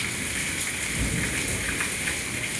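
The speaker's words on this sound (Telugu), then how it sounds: "చూడండి ఆ సౌండ్స్ ఎలా ఉన్నాయో దద్దరిల్లిపోయేలా ఉంది మెరుపులైతే" Steady, dense monsoon rain pours down in Kurnool, India, with a low rumble of thunder swelling briefly in the middle, filling the whole clip at close range.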